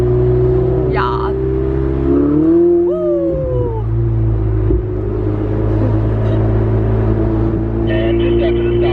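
Supercar engine cruising through Santa Monica, a steady loud low drone with a brief rising rev near the middle, people talking over it inside the cabin.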